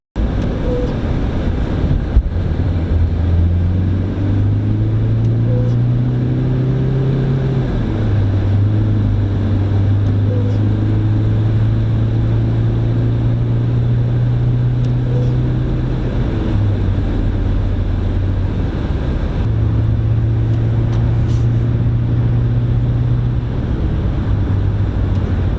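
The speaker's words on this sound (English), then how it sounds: "now guys, we're gonna go to the highway and we'll see how this thing handles." A Toyota Yaris D-4D Luna diesel hatchback cruising on a highway gives a steady, loud low drone of engine and road noise with wind rushing past. It runs continuously throughout, and no one talks.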